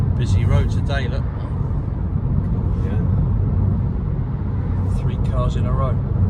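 Cars pass by on a busy road, a steady roadway rumble with a passing vehicle swelling mid-clip, while people talk over it near the start and end.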